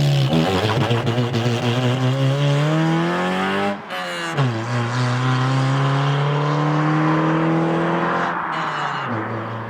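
Car engine with a stock cat-back exhaust revving hard and loud for nearly ten seconds, rising pitch sweeps broken by a brief drop in between, no talking over it.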